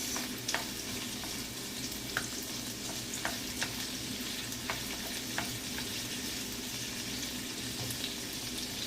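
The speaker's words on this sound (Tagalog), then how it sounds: "So, i-mix natin yung garlic" Garlic sizzling in a hot pan while being stirred, a steady close frying hiss broken by regular scraping clicks of a spatula against the pan, with no voices.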